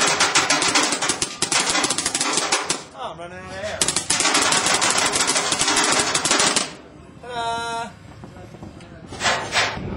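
Angel Speed paintball marker, a newly released model, fires long rapid-fire strings in bursts, loud and close, with brief pauses between volleys and a voice heard in the gaps.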